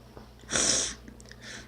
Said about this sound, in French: Tu entends quelqu'un renifler, t'es quasiment bon.